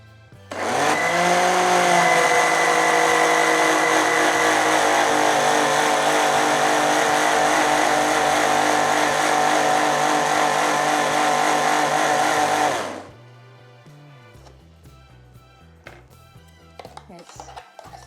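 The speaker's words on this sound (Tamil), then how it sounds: "ஸோ போட்டு நம்ம அரைச்சிடலாம் முதல்ல" An electric blender grinding almond gum with milk and mango: a loud, steady whirring roar that starts abruptly, holds for about twelve seconds and cuts off, followed by quiet clinks and faint handling sounds.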